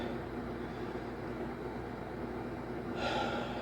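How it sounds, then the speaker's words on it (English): A person breathes during a qigong warm-up: a soft, steady airy hiss, then one clearer breath near the end, close to the microphone. "you breathe in, inhale, as your hands are going up, start to exhale"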